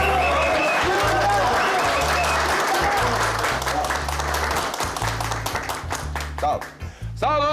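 Audience applause in a TV comedy sketch set in a coffeehouse, dense and sustained clapping from a crowd, loud throughout with a steady low rhythmic beat under it, thinning toward the end as a voice briefly comes in.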